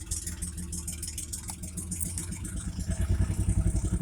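A Toyota car engine runs steadily at idle close by, a continuous low rumble with a faint rhythmic pulsing that grows slightly louder toward the end.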